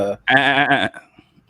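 A single goat bleat sound effect rings out, a short wavering nasal cry, loud and clear, following a brief voice fragment.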